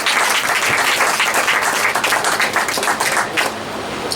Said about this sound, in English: let's give our senator another round of applause.